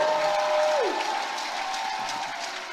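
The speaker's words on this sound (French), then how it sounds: "Ton acclamation là ne me plaît pas." An audience at a preaching service applauds and cheers, a dense, steady wash of clapping and crowd noise with a brief tonal whistle-like glide early on, slowly easing in level.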